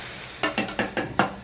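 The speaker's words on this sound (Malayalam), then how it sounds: "നമുക്കത് ഇളക്കണം." A pan of mustard seeds, chillies and garlic frying in oil, stirred in five quick scraping strokes over a steady sizzle, close and fairly loud with no voices.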